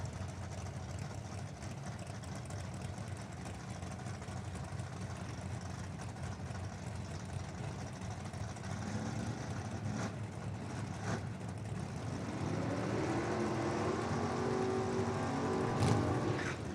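D-Gas class drag racing cars idling at the ANRA Summer Nationals, a steady low rumbling drone that grows slightly louder toward the end with some rising engine tones, heard from a moderate distance.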